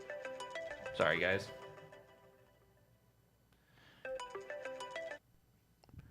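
A phone ringtone plays through a room's sound system as a bright repeating melodic chime in two separate bursts, fairly clear, with someone talking briefly between them.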